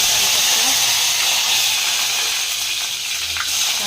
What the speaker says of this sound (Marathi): घालून कांदा मस्त लालसर होईपर्यंत परतून घेऊ